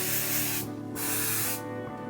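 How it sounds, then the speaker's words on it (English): Goldwell Perfect Hold hairspray hisses out of an aerosol can onto hair in two long, close bursts separated by a brief pause, loud and steady. "I use Goldwell Perfect Hold, and I'm just going to lightly spray around my entire head."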